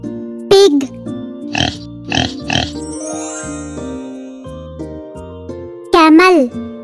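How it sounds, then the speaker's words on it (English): A pig's oinking, named in a domestic animals lesson, comes as several short, loud grunting bursts with a sharp squeal-like call at the start and another near the end, backed by soft music. "Pig."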